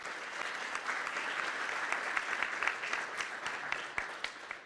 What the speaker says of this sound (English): So give her a round of applause there.